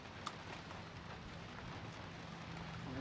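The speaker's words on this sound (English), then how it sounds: "it's raining pretty good" Rain falls steadily outdoors around a chainsaw work site, a faint, even patter with a single small tap near the start, and no talk over it.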